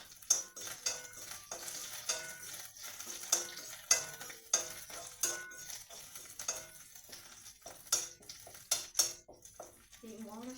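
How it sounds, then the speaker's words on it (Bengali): Curry leaves go into hot oil for Maggi noodles: a sizzle with repeated sharp clanks and scrapes of a utensil against the pan at an uneven rhythm, and a voice talks at times. "তো ওই যে এখন কারি পাতা দিয়ে দেবো।"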